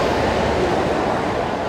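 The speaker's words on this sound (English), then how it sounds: "Here at the Venice train station" Steady, loud wash of ambient noise inside Venice's Santa Lucia train station, a continuous broadband rumble and hiss with no distinct events and no talking.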